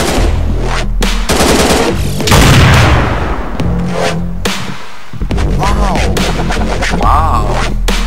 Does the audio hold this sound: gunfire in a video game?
yes